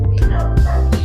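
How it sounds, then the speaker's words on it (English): Several dogs bark in a close, loud burst, with a few sharp yips rising over a steady low background hum. "Excuse my dogs, I do not know why they're barking."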